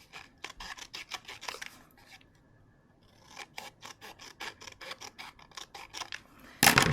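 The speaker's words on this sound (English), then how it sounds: "So I'm just going to cut along the perforation there." Scissors cutting paper along a perforated line, a close series of crisp, rhythmic snips in two bursts separated by a short quiet gap, ending with a sharp rustle.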